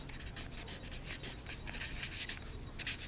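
Pen or marker scratching quickly across paper or a board as a statistics formula is handwritten, rapid rhythmic strokes up close and fairly loud, with no voice.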